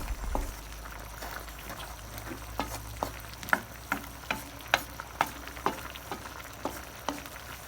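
A pot of papaya cooked in coconut milk, seasoned with a Maggi pork cube, sizzles and bubbles steadily while a spoon stirs it, knocking against the pot in a regular rhythm of close, sharp clicks.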